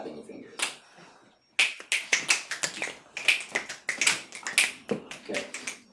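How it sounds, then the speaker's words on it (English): Repeated crisp finger snaps, one early then a steady run of sharp clicks at a quick, even pace, close and fairly loud. "do this motion of snapping your fingers"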